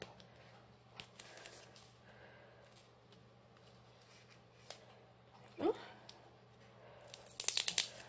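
Quiet handling noises, then a sharp rip and crinkling bursts of adhesive tape being pulled off near the end.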